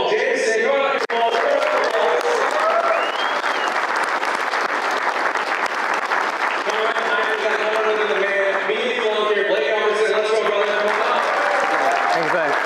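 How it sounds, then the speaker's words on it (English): A large crowd at a lawn care business event applauds loudly and steadily, with cheers and whoops mixed into the continuous clapping throughout. "get a huge round of applause for them"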